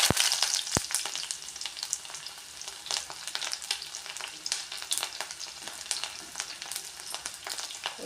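Shallots hit hot oil for a quick Kerala tomato curry, setting off a loud, steady crackling sizzle with sharp pops throughout, close by and with no voices.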